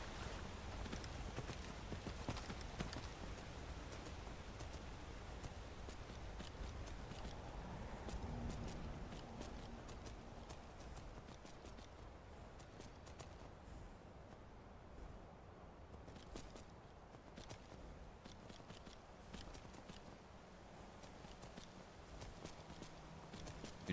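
Horse hooves clip-clop steadily while riding through Skyrim, a faint, even walking rhythm under a low wash of ambient noise.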